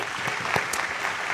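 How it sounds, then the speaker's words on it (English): Brief burst of audience clapping at a young magicians' show as a volunteer comes up, fairly quiet with a few sharper individual claps. "Everyone give him a nice round of applause."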